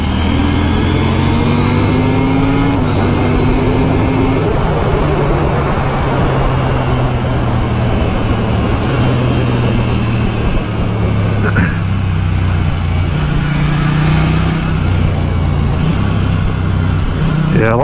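A KTM 890 Duke motorcycle accelerating in 4th gear at around 50 mph, its engine note steady and rising under strong wind rush, heard from the rider's position while someone talks over it.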